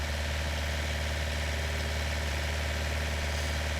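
A tractor engine idles in Farming Simulator 19 with a steady, close, low rumbling throb and a constant vibrating hum. No voices or other sounds break in.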